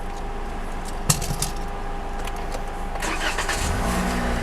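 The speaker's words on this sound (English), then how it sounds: "And then it started up" A car with a dead battery cranks and starts after a jump start, a brief clatter of keys followed by the engine catching and settling into a steady low idle, close by.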